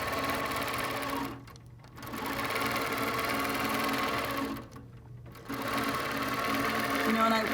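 A quilting sewing machine stitches along rulers with a steady, rapid mechanical whir that halts twice for short pauses before resuming, while a person talks over it.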